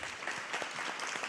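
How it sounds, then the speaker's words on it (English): An arts and culture preview audience in Joplin gives a brief round of applause, a close, dense patter of many hands clapping evenly for just over a second. "So let's thank her with a round of applause."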